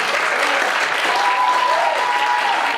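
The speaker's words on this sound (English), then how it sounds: "Give him a round of applause." An audience at a school attendance celebration gives a round of applause, sustained crowd clapping at a steady level, with a faint tonal sound briefly audible in the middle.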